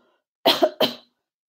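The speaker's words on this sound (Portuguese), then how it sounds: "tossir para frente, assim, ó" One person gives a gentle forward cough demonstration aimed at clearing post-nasal drip, producing two short close coughs in quick succession after a moment of silence.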